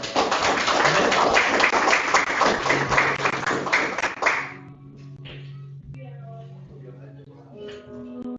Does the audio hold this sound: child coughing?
no